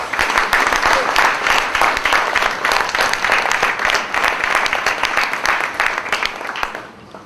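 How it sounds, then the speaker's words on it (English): A school auditorium audience applauds to welcome the chief guest at an annual concert, dense steady clapping filling the hall for about seven seconds before tapering off at the end. "let us welcome our chief guest, Mrs. Kundatai Vijaykar, with a thunderous applause"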